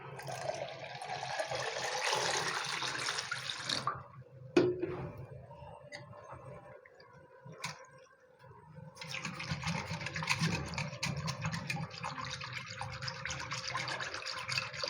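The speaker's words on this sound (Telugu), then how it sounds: "వాటర్ యాడ్ చేసుకుంటాము." Water is poured and splashed while prasadam is prepared, with a gushing, running-water hiss that stops for a few seconds before pouring resumes, plus a couple of clinks.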